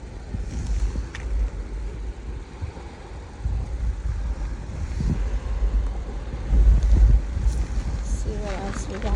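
Ocean waves wash on a south Florida shell beach, a loud rolling surge mixed with heavy wind buffeting the microphone while a person talks over it.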